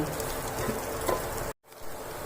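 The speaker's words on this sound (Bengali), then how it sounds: "বেসনটাকে আমি খুব সুন্দর করে ভেজে নেব।" Besan (gram flour) frying in a pan for paneer bhuna masala gives a steady, close crackling sizzle that breaks off briefly into near silence, then resumes more softly.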